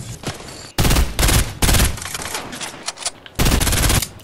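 Fortnite gunfire crackles in several loud bursts of rapid, machine-gun-like shots separated by brief lulls, with no talking over it.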